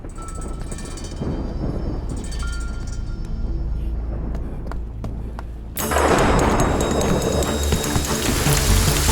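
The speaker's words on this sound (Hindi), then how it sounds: "लगता है कि बारिश आ रहा है। हाँ यार, बहुत ही खतरनाक बारिश होगी।" Heavy rain in a film scene: a quieter stretch with scattered thuds gives way abruptly to a loud, dense, hissing downpour that continues to the end.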